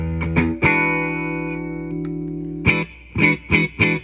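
Electric guitar played through the clean channel of a 1990-1991 Ampeg AX-70 amp: a sustained chord rings out with effects and reverb, then a few short, punchy chord stabs follow with no talking.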